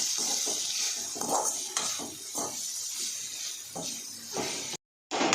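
Torn chapati pieces are tossed and stirred in a pan for chilli chapati, giving repeated scraping, clattering strokes of a utensil against metal over a steady hiss, with a brief dropout near the end.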